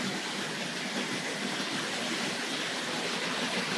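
A Tri-ang Hornby model diesel train from an RS.62 Car-a-Belle set running on track, giving a steady whirring, rushing hum at even loudness throughout, nearby, with no talking.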